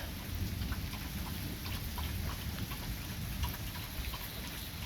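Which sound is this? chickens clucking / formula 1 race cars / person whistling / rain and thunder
rain and thunder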